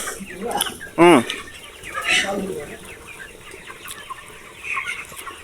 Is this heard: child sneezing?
no